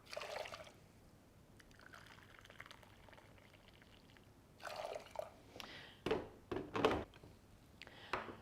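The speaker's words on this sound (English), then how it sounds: "Then we're going to add 3 cups of boiling water." Boiling water being poured over rolled oats and other grains for porridge, several splashing pours and trickles that start and stop, fairly faint and close, with no talking.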